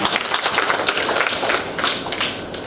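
An audience applauds with a steady wash of clapping that fills the whole stretch, dense and fairly close.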